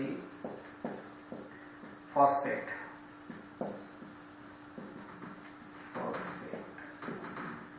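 Marker or chalk writing on a board during a chemistry class, short scratchy strokes in bursts between pauses, with a teacher talking over them.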